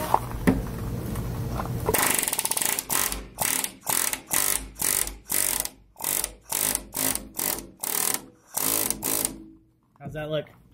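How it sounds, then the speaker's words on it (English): A rivet gun hammers a rivet into bus body metal in about a dozen loud, close, rapid-fire bursts separated by short pauses, after a stretch of lower mechanical noise. "this is gonna hammer and it's gonna distort the back so that it pinches the two pieces of metal"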